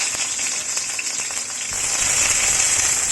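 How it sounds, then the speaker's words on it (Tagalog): Onion sautéing in hot oil for Filipino pakbet, a steady close sizzle and hiss that swells louder partway through, with faint stirring and no talk. "maghahanda tayo ng mantika para gisahin natin ang mga ingredients. Like onion"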